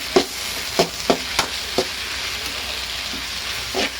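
Okra fries with salt in a pan under a steady sizzle, broken by several sharp spoon taps and scrapes against the pan as it is stirred, close by, no talking.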